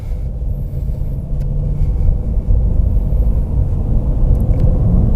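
A 2013 Honda Accord VTi-L in normal drive mode accelerates as a steady, loud, low engine and road rumble that builds slightly, heard from inside the car with no talking.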